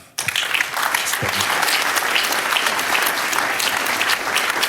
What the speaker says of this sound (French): Je vous demande d'applaudir Monsieur Philippe Var.